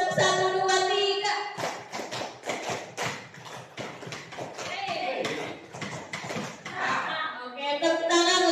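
A group of children claps through a one-two-three classroom clapping game, a long run of quick, sharp hand slaps in rhythmic clusters, with young voices chanting at the start and end.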